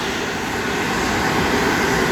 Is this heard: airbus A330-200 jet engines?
yes